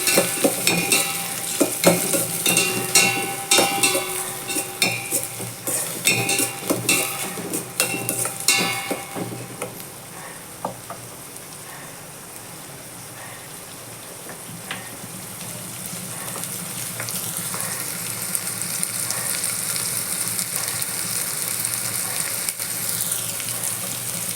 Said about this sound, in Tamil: போட்டு நல்லா வதக்கிக்கலாம்